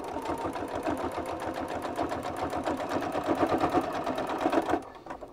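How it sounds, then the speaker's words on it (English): Stitching a hem on blue jeans, a sewing machine runs in a rapid, even rhythm of needle strokes at close range, then stops abruptly near the end. "let the machine go through a stitch at a time to make sure it makes it"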